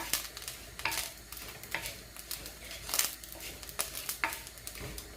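Roasted grated coconut being stirred into Batticaloa-style maasi sambal (dried fish relish), with irregular scraping and clinking strokes of a spoon against the pan over a faint, steady background hiss.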